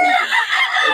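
A Sweater Gilmore gamefowl rooster crows once, loud and close, a short bright call.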